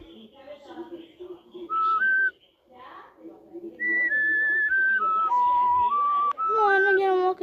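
A whistled melody voicing the Silbón character from the Sprunki music game: clear, bright notes stepping up and down in short phrases, loud and close, with faint voices in the background at the start.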